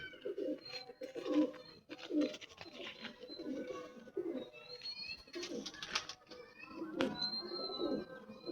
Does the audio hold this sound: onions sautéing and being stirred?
no